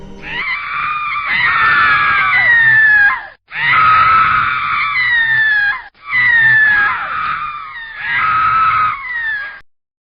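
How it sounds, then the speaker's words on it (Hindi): A woman screams in agony as a horror-story effect, with four long, loud, strained shrieks separated by brief gaps, raw and close with no other sound. "उसकी चीख बहुत भयानक और दर्दनाक थी।"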